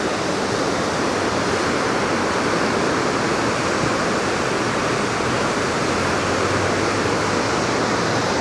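Floodwater rushes through Kullu-Manali after a cloudburst, a loud, steady, unbroken roar of churning water that fills the whole stretch.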